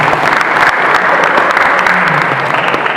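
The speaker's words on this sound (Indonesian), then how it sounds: "Tepuk tangan" Steady audience applause at an environmental ambassador award ceremony in Sinjai, a dense wash of clapping that holds loud and even for about three seconds.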